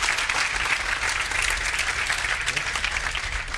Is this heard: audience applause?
yes